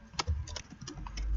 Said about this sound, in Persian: در این قسمت تایپ میکنیم